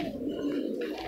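Teddy pigeons in a breeding loft coo steadily and close by, a continuous low, throaty murmur from several birds with no break.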